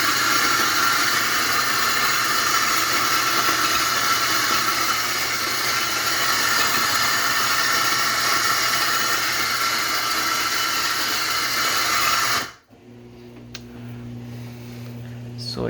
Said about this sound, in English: This machine, I have it set up to grind exactly that much.